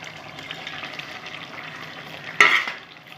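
Fried boroli fish stirred into a simmering potato and eggplant curry in a pan, giving a close, continuous bubbling sizzle with scraping stirs and a sharper clatter of the spoon near the end.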